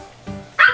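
A person gives a single short, loud bark imitating a dog, preceded by a brief low vocal sound.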